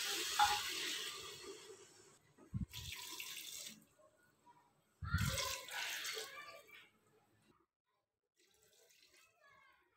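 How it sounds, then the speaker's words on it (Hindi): Water is poured from a tap into a pressure cooker holding jackfruit curry roasted in spices, arriving as three separate splashing gushes with quiet pauses between them. "मसाले च कटहल नूं भुनन तों बाद हुण इहदे च आपां पानी पाउणा है।"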